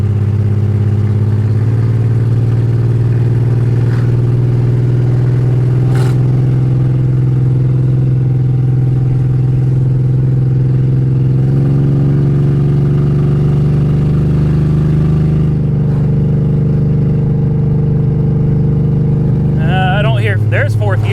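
A BMW 325xi E46 engine drones steadily and loudly as the car accelerates, with small pitch shifts between gears and a brief rattle near the end.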